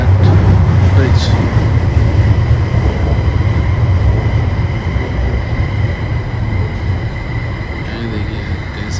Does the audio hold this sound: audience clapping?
no